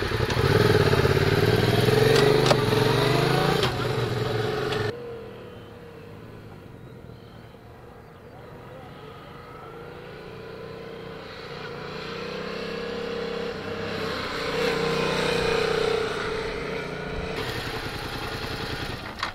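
A motorcycle rides through a curve on a safety course at Panenský Týnec, its engine loud and revving near at first, dropping away as it leans through the bend, then climbing again close by.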